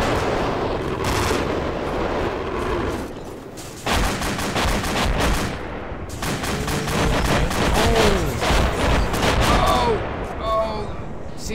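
Sustained video game gunfire, rapid automatic bursts and single cracks layered into a near-continuous barrage, loud and close, pausing briefly before resuming, with people talking over it toward the end.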